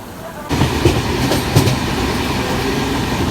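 A train rolls along the rails with a steady rumble and rhythmic clacks, starting abruptly and continuing loud and close throughout.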